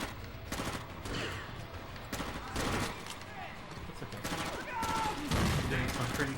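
Bursts of gunfire from the video game Far Cry Instincts ring out in quick repeated volleys, mixed with game sound effects and some talk throughout.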